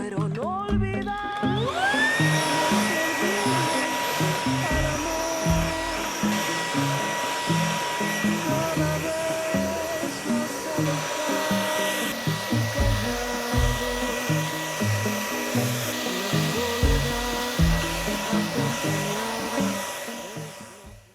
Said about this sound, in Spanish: con ayuda de esta aspiradora de manos va a quedar como nueva